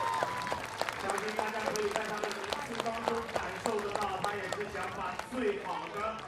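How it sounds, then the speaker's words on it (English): Spectators applaud steadily at a women's UCI BMX Freestyle Park World Cup final in Shanghai, the broad clapping and crowd noise sitting under continuous commentator speech. "Getting a round of applause from the crowd"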